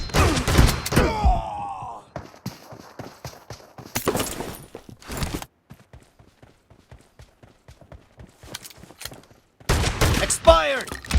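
Shotgun blasts in PUBG Mobile, loud booming shots in bursts at the start, middle and end with rapid clicky reload and movement sounds between, and a game voice briefly calling out.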